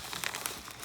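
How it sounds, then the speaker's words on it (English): Cardboard packaging around a 108mm box being cut through, giving a brief, close crinkling and scraping rasp with small crackling ticks. "Actually just cut through the cardboard"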